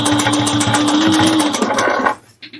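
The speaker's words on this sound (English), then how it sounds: "whenever I sew over a seam, I back stitch over it." Sewing machine back stitching over a seam on a quilted barrel bag, a loud close rapid needle chatter running steadily for about two seconds before stopping with a few soft clicks.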